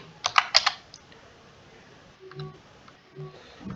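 Typing on a computer keyboard: a quick cluster of close, crisp key clicks at the start, then a pause and a few scattered, softer keystrokes and clacks.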